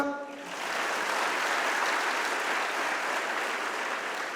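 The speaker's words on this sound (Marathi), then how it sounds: "टाळ्या जोरदार वाजवा" Audience at a lecture hall breaks into loud, sustained applause, a dense wash of clapping that swells quickly after a brief moment and holds steady for several seconds.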